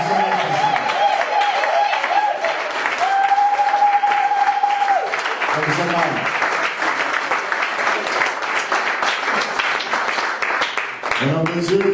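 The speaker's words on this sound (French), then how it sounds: "Est-ce qu'on peut lever debout et applaudir votre pasteur?" A church congregation stands and applauds its pastor, dense steady clapping filling the room throughout, with a sustained musical tone and a voice speaking over it at moments.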